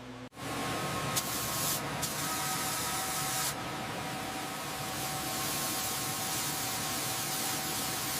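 Steady airbrush hiss as a coat of paint is sprayed onto a cat-themed monster truck model, a continuous close, soft spray with a few brief bursts and pauses, no talking.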